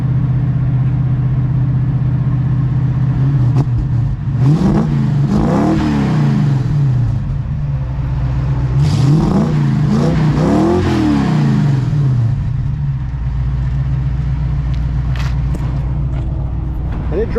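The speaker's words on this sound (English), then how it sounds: "The engine sounds fantastic." A 1966 Ford Mustang with headers, its engine idling in a steady low rumble and then revved in several rising-and-falling bursts before settling, heard up close.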